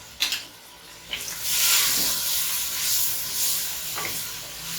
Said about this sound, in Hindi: अब इसको आपने 5 मिनट मजीद भूनना है कि हमारे टमाटर जो हैं वो सॉफ्ट हो जाएं